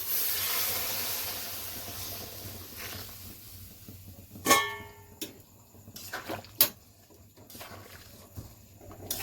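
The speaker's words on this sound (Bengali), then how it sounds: "এবার জল দিয়ে দেবো, জল গরম করে নিয়েছিলাম।" Hot water is poured into a pan of fried potatoes for a light Bengali bata fish curry with ridge gourd, giving a broad steamy hiss that fades over several seconds, followed by a few sharp metallic knocks on the pan.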